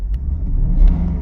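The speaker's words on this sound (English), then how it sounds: "when you rev the car" A Porsche Panamera with a 4.8-litre V8 rumbles close by as its engine is revved, a steady low growl swelling briefly before easing, heard alone without voices.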